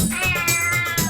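A cat gives a single drawn-out meow, close and clear, with no speech around it.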